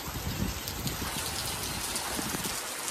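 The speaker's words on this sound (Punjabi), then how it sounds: "ਮੀਂਹ ਆ ਜਾਊਗਾ ਏਡੀ ਤੇਜ਼" Heavy rain pours steadily on a farmhouse during a party, a dense, constant hiss of drops drumming on surfaces with no voices over it.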